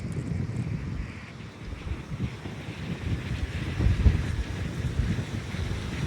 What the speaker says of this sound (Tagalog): Napakalakas ng hangin. Medyo maalon.